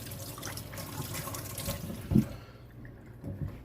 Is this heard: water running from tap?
yes